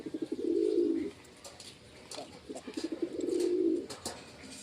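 A pet pigeon coos close by, two rolling, throaty coo phrases with softer clucks between them in a quiet room.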